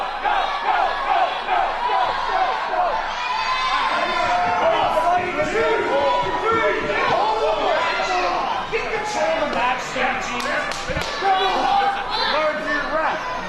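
The crowd at an independent wrestling show reacts throughout, with a dense roar of shouting and chatter that rises and falls and a few slam-like thuds. A commentator talks over it.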